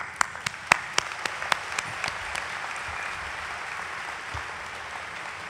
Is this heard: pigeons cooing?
no